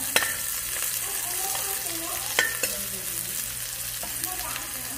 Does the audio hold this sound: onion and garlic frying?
yes